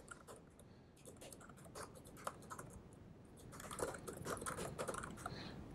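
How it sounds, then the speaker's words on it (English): Typing on a Matias wireless sculpted ergonomic keyboard: quick, close key clicks in uneven bursts, growing denser and busier toward the end, with no voices. "you can't see what I'm typing, but you can hear"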